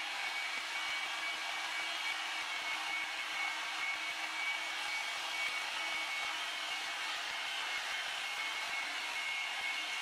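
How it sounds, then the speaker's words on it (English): A hair dryer blows steadily while drying hair, a constant close-up whirring hiss with a faint high whine that holds unchanged for the whole ten seconds, no voices over it. "so we're already at 4 minutes with drying our hair"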